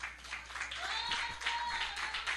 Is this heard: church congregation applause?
yes